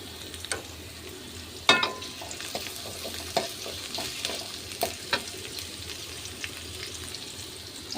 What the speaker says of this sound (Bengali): কড়াইতে তেল দিয়ে পেঁয়াজ কুচি দিয়ে দিয়েছি।